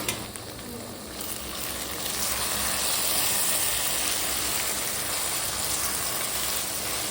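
Garam masala frying with cooked tomato in a pan for veg dum biryani, a steady dense sizzle that swells louder after the first two seconds and holds evenly throughout, no talking.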